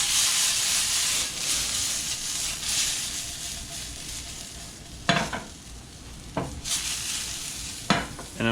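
Mushrooms sautéing in a cast iron pan, a steady, bright sizzle close by, punctuated by several sharp scraping stirs and louder crackling bursts.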